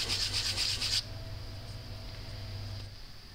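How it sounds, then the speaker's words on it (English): Cork for a PVC flute being smoothed along its sides by hand, a brief close rasping rub for about a second before fading to quiet room noise. "What I'm doing here is just smoothing off the sides of the cork."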